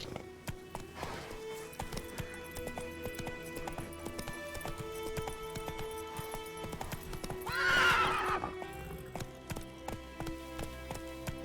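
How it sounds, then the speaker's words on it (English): Horse hooves pound in a fast gallop in The Witcher 3, with a loud neigh midway through, layered over background game music and ambience. "Run, Roach"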